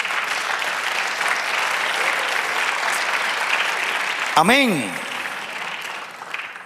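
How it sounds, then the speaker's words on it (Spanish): Church congregation applauding during a sermon, a broad, even wash of clapping from many hands that carries for several seconds before a single voice speaks and the clapping tapers off. "Y el otro aplauso al Señor."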